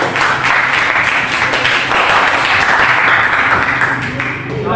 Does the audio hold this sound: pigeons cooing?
no